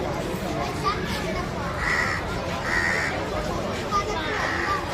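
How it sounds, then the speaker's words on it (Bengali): Crows cawing around their large nests in Kolkata, harsh repeated caws at roughly one-second intervals, moderately near, over a rough background of wind or handling noise. "কিছু কাকও ভিতরে রয়েছে এবং ওদের বাসা বেশ বড় বড় বাসা।"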